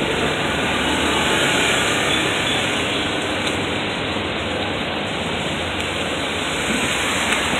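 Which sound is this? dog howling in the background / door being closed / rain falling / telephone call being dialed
rain falling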